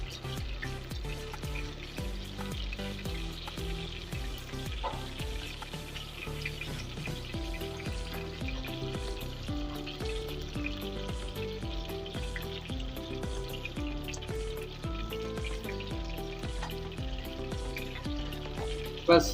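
Peshawari chapli kebabs frying in a pan give a steady, close sizzle that runs throughout, with faint scrapes as two spoons turn them over and no talking.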